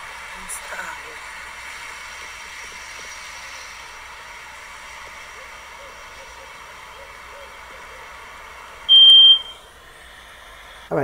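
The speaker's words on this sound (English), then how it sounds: "my alarm is going off" A smoke alarm gives one loud, sharp beep partway through a steady electronic hum, with a brief click at the end and no talking.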